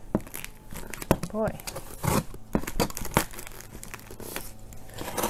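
Tape is cut and a plant shipping package is torn open, with crinkling, tearing and rustling bursts close by, while a person talks intermittently over the handling noise.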